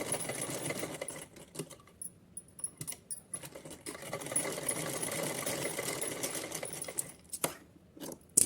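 Domestic sewing machine stitching fabric for a small Kanha ji outfit, its fast mechanical whir running in quiet, irregular bursts with short pauses and light handling clicks in between.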